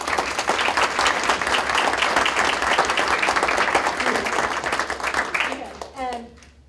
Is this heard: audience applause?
yes